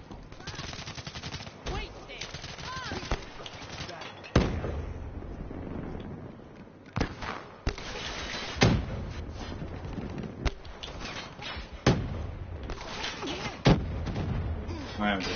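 Weapon fire in Call of Duty: Black Ops 2 as a grenade launcher shoots: a string of loud, sharp blasts at irregular intervals over steady background gunfire and battle noise.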